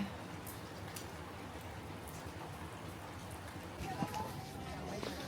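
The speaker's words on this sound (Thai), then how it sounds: "ฝนตกแต่เช้าเลยนะคะ จริงๆตกตั้งแต่เมื่อคืนแล้ว" Steady morning rain falling on a quiet family trip in Rayong, Thailand, forms a continuous even hiss throughout, with a faint brief chirp partway through.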